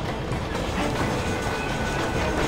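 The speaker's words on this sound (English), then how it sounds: "This is a freaking long train ride." Steady rolling rumble and rhythmic clickety-clack of a train ride in the video game Red Dead Redemption, a continuous, fairly loud wash of rail noise with no talk.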